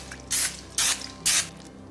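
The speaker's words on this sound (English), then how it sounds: "I'm gonna spray it with some nonstick spray." Nonstick cooking spray hisses into a casserole dish in three short, loud bursts, evenly spaced, with no talk.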